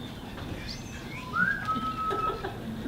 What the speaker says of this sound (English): What's that, Captain? Somebody's whistling.